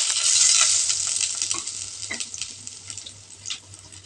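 Onions, green chillies and curry leaves sauté in hot coconut oil with a loud, bright hiss at first that gradually fades to lighter crackles and spatters, ending with a few sharp pops.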